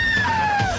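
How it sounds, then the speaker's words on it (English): A person lets out a single loud, close scream that slides downward in pitch during a free fall in an extreme sport, lasting just under a second. "Now that's a scream of pure enjoyment."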